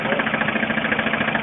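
An engine runs with no oil in it during an oil-additive demonstration, producing a loud, close, steady drone with a fast rhythmic pulsing throughout.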